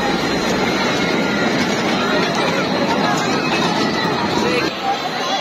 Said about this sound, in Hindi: ये ट्रेन है इधर की।